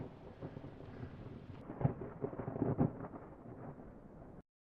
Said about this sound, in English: I'm gonna get out of this thunderstorm